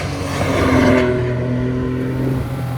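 A 670-horsepower carbon-bodied sports car with a light-flywheel engine and a Ferrari 550 Graziano six-speed gated manual drives along, its engine droning steadily and loud from inside the cabin with a slight rise in revs.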